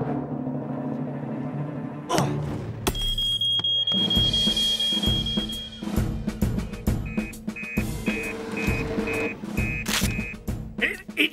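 Electronic alarm beeping in a cartoon supermarket, a repeated high tone pulsing under busy music and effects, first a sustained beep then a rhythmic series of short beeps.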